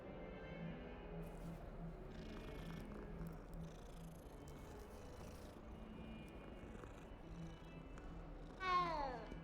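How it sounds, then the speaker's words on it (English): In Hogwarts Legacy, a cat purrs softly in a low continuous rumble, then lets out one short rising meow near the end, faint against quiet game ambience. "Kitty."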